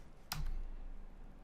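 Typing on a computer keyboard: a single short burst of key clicks close by, then quiet room tone.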